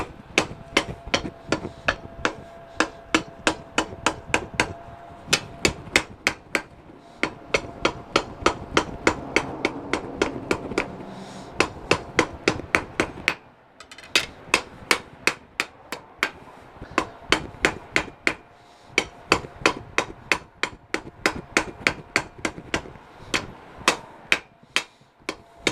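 Hammer blows drawing out hot steel for a knife at a propane-forge setup, rapid regular strikes ringing loud and close in steady bursts with brief pauses between runs.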